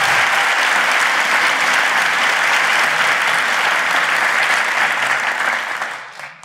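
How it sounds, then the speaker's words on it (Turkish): Audience applause at a live comedy show in a Taksim hotel venue, a loud unbroken wash of clapping that fades out near the end. "Alkışlarla devam ediyor"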